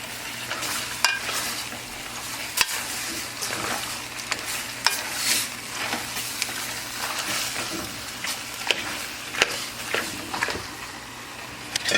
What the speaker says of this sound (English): You have to brown your meat.